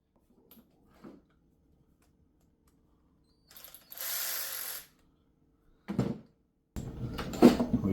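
Ratchet working on fuel filter hose clamps on an 1985 Firebird Trans Am, a few separate short bursts of clicking and whirring with quiet gaps between, close by.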